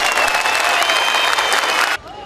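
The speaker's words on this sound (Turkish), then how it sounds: "Onlara bir alkış istiyorum size." A crowd at an outdoor political rally in İskenderun applauds loudly and steadily, a dense wash of clapping with some cheering that cuts off abruptly near the end.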